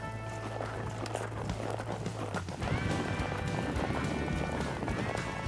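A horse's hooves beat in a steady rhythm at a lope on an arena ground, close and continuous, with a low mechanical hum beneath.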